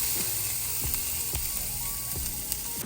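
Ground beef sizzling steadily in a pan, a constant close frying hiss with a few soft scraping clicks of stirring, no voices.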